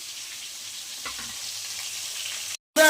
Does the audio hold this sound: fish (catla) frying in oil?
yes